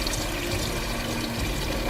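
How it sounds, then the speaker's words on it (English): Fresh tap water pours steadily into a pot of just-drained boiled eggs, a continuous close splashing rush lasting the whole moment with no talking. "And then add in normal water."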